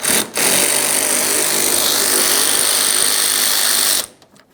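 A power tool whirs steadily and loudly to back out a 10mm bolt at the corner of a Jeep Grand Cherokee front bumper cover, running continuously for about four seconds before cutting off abruptly.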